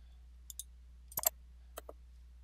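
A computer mouse right-clicks in a quiet room: a few sharp, crisp clicks in small clusters, close and alone over a faint steady hum.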